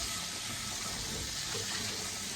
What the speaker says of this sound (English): Just rinsing that stuff right off.